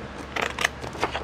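Scissors cutting paper for junk journal pockets and tags, heard as a few quick, close snipping crunches in a short burst.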